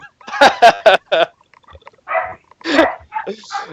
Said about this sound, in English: I have loud dogs